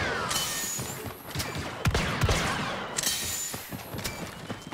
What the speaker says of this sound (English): Oh, I hear the bowcaster going off.